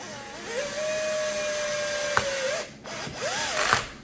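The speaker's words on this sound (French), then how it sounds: "On va visser en diagonale comme d'habitude." A power drill driving screws into a Traxxas E-Maxx RC car, a close whirring motor that rises in pitch, holds steady, then stops with a click before a second short burst winds up and down.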